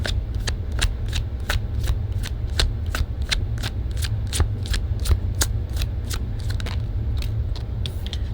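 A deck of tarot cards being shuffled close up, a long run of crisp riffling flicks in quick regular succession over a steady low rumble of background noise, with no talking.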